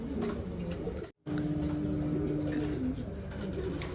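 Pigeons cooing at a pigeon farm, a continuous close chorus of soft throaty coos with a brief dropout, no talking.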